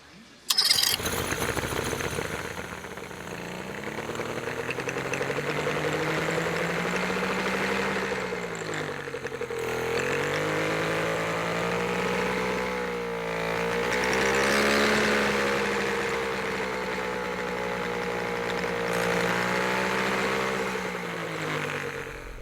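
An outboard motor with a blocked carburettor starts abruptly, then runs and revs unevenly, its pitch rising and falling in surges over a steady close, loud drone.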